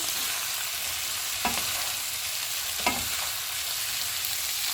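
Beef spring roll filling with soy sauce, salt and black pepper stirred in a hot pan: a loud, steady sizzle throughout, broken by two brief scrapes of a utensil across the pan.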